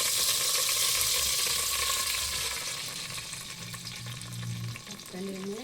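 Oil goes into a hot pan that already holds ghee while making chicken biryani, and a loud, steady frying sizzle settles into a softer crackle with some stirring near the end.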